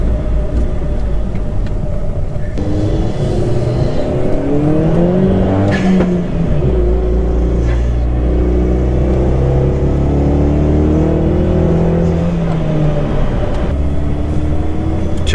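A Chevrolet Sonic makes repeated acceleration pulls, its engine climbing in pitch through the gears in sweeping rises with short drops between shifts, loud and close throughout, with no talk.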